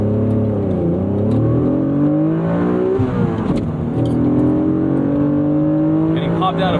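A 1995 Acura NSX-T NA1 engine revs hard under acceleration, its pitch climbing through the gears with quick drops at shifts, loud and close from inside the car, with a voice speaking briefly over it.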